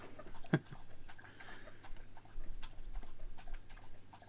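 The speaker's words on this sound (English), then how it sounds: "licking noise in the background, it's my dog having a drink" A soft, rapid series of wet lapping sounds from a dog drinking from a bowl continues at a quiet level, with a low hum underneath and one brief louder knock.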